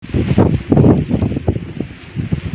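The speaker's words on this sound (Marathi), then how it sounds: "वाऱ्यामुळं आवाज आहे" Gusts of wind buffet a microphone outdoors on a rainy day, producing loud, uneven low rumbling bursts with no other sound clearly standing out.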